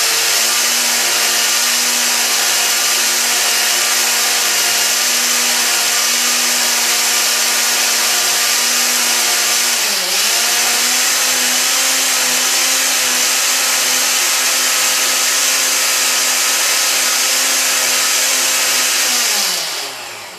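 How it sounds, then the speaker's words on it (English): A blender running on its liquefy setting, blending a green smoothie, whirs as a steady loud motor drone with a fixed pitch, a brief dip midway, then winds down at the end. "My blender has a liquefy on it, so I'm going to do that."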